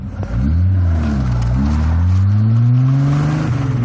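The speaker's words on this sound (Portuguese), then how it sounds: "Ronco de motor é fundamental." A sports car engine revs loudly up close, its pitch rising and falling in a deep throaty roar that holds for a few seconds.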